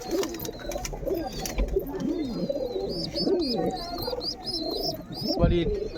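Several pigeons coo in low, rolling calls close at hand, overlapping throughout, with higher chirps above and a person speaking alongside.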